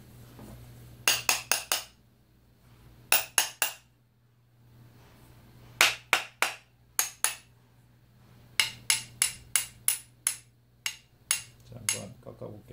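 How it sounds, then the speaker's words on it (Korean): An older-model Cheolma straight-blade hand plane shaves wood in quick, sharp strokes that come in close, loud clusters of three to five, with short pauses between them and a faint steady hum underneath. "먼저 철마 구형 대패로 한번 깎아볼게요"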